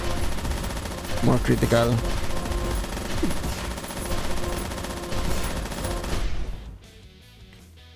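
A Gatling gun fires in the Metal Ascension game as a loud, dense stream of rapid shots amid other game sounds. A voice speaks briefly over it, and the noise cuts off near the end.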